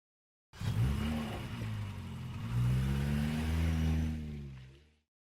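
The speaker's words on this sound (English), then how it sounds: "a car moves away from a house by driving" A car starts up and drives away from a house, its engine rising and revving loudly nearby, then fading out as it leaves.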